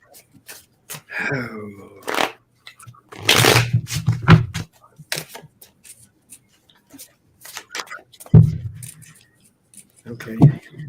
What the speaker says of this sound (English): I thought I was done shuffling.